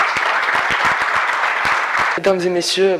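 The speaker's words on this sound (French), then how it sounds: "Applaudissez-les." Conference audience applause for the president and vice-president of a youth junior enterprise, a dense burst of clapping for about two seconds, then a voice speaking over the fading claps.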